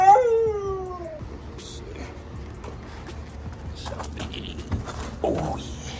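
A dog whimpers beside a backyard dog house during shed and deck renovation work, giving a close, high falling whine in the first second before fading into quieter rustling and faint background noise.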